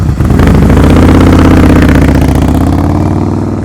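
A motorcycle engine revs loud and close during slow-speed riding skills practice, a rough, throbbing mid-pitched roar that holds steady and then eases slightly, with no voices.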